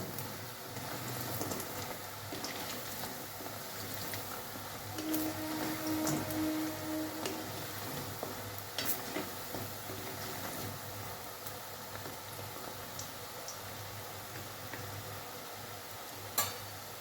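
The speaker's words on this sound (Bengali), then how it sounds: "এভাবে ভালো করে উল্টে পাল্টে ভেজে নেব।" Dhoka lentil cakes frying in oil while being turned over in the pan, a soft continuous sizzle with occasional light clinks from the utensil.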